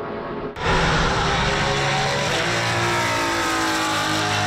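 Race cars tear around the track at Watkins Glen International, a loud engine roar bursting in after a brief quieter moment and holding as a dense, sustained high-revving drone, close and with no voices.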